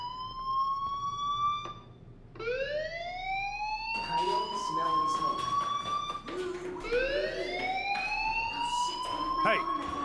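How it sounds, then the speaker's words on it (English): A fire alarm in a game wails with repeated rising electronic tones that sweep upward and overlap, loud and continuous for the whole stretch. "do you hear that fire alarm?"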